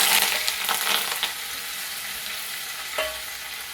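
Hot oil tempering with curry leaves poured over an amaranth and raw mango curry, giving a loud, steady sizzle with crackling bursts near the start and a fresh flare near the end.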